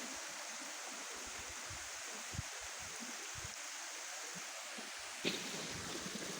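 Steady rush of water pouring from a waterfall at Dereova, a continuous broadband wash with faint low thumps and one brief splash near the end.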